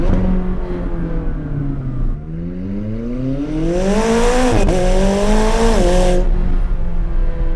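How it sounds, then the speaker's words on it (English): A 2024 Ford Mustang engine revs up through rising gears, the pitch climbing steadily, with a brief shift dip and loud intake and turbo whoosh. "Now you get to listen to all the turbo noises and the intake noises and all the noises."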